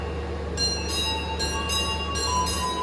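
A train rolls past during an unscheduled crossing on the Sri Tanjung economy line between Banyuwangi and Jogja, a steady near rumble with a low hum and repeated bursts of wheel clatter, with no voices.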